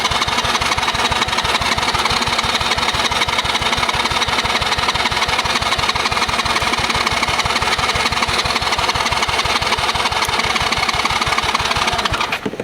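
Old, long-idle kids quad engine running with the choke on, a loud, fast, steady putter of rapid regular firing pulses that holds throughout before briefly faltering at the end.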